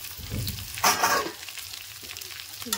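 Cauliflower dropping into a pan of lightly fried eggplant, with a loud sizzling burst about a second in that settles into a steady low crackle, close and with no talking.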